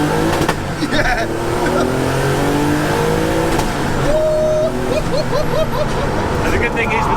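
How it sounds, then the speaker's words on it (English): Old-school Porsche 911 Turbo race car engine revving hard through a first-gear pull, loud and raw with rising harmonics and a brief gear change, with people talking over it. "First gear pull in a Widowmaker, yeah."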